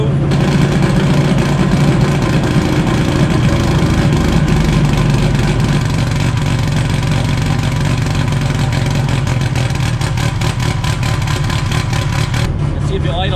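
A VW 2234cc fuel-injected engine idles steadily and loudly up close, a continuous low rumble that holds for the whole stretch with a slight shift near the end.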